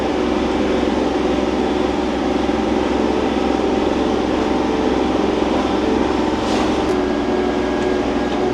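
A Ford FW30 tractor engine held at maximum revs, a loud, steady, unbroken mechanical roar that stays level throughout, close to the listener, with no talk over it.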